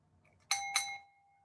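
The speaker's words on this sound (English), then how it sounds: "hit the bell" A bell ding sound effect: two bright, clear chimes in quick succession, the second ringing out and fading slowly, heard alone without talk.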